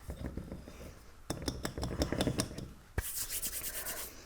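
Baby powder is poured and scraped from a measuring cup into a jar for a texture paste. Soft rubbing and scratching carry a run of sharp clinks and taps partway through, then a burst of hissing, sifting noise.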